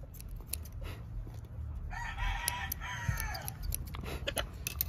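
A healthy red rooster crowing once in a drawn-out call midway, fairly near, over a low background rumble and a few faint clicks.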